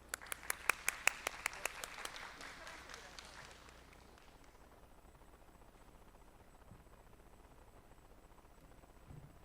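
An audience at an academic conference session applauds to welcome a speaker, a burst of loud clapping that quickly fades into a long, faint patter of scattered claps.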